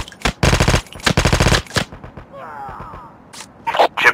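Automatic gunfire in Call of Duty Mobile, two loud rapid bursts up close followed by scattered single shots and another short burst, with brief gaps between them.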